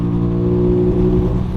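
An Aprilia Tuono 660 motorcycle engine holds high revs on back lanes, a loud, close, sustained buzzing drone with strong harmonic tones and a slight swell, with no voices over it.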